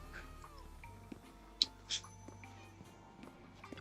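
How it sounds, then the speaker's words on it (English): A couple of brief, quiet cat meows from the video game Zenless Zone Zero over a soft, steady background hum with faint ticking, no one speaking. "I hear kitties."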